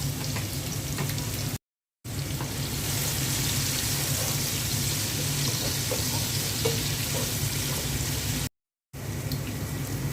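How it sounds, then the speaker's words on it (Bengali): Chopped onion fries in oil at the start of a pulao, giving a dense, continuous hiss and crackle close by, broken by two brief silent gaps. "এখন পোলাওটা বসিয়ে দিচ্ছি তেল দিয়ে দিয়েছি পেঁয়াজ কুচি দিয়ে দিলাম"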